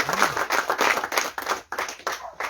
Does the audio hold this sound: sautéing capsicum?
no